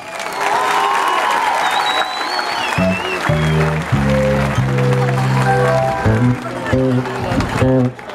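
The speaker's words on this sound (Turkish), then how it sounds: "Alkışlarınızla." An audience at a municipal ceremony in Balıkesir applauds steadily as flowers are presented, the dense clapping running throughout under music and a few spoken words.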